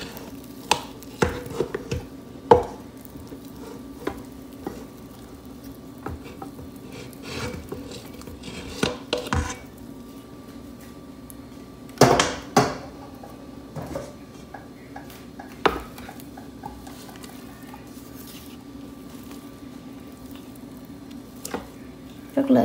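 Wet, squishy mixing of seasoned raw pork paste for Vietnamese giò sống, with irregular slapping and squelching pulses and occasional clinks against a bowl, close and moderately loud, no talk.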